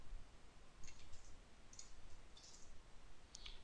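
A computer mouse gives a handful of light, faint clicks spaced irregularly over a constant hiss, with no voices.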